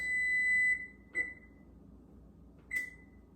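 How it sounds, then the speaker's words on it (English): An electronic oven timer buzzer sounds one long beep, followed by two shorter beeps spaced apart, clear and close in an otherwise quiet room. "the 10-minute buzzer just went off"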